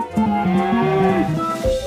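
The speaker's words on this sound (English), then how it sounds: "The cows are so big and strong. Moo moo. I think they're talking to me." Cattle on a small farm give a loud, close, drawn-out moo, a single deep call lasting most of the moment, with no talking over it.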